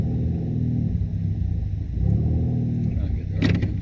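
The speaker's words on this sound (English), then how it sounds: "You want to give it a little bit of gas, try to clear it out?" A 4-cylinder turbocharged Camaro running rich on E85 fuel, its engine rumbling low and swelling in two modest revs, close by with a brief clatter near the end.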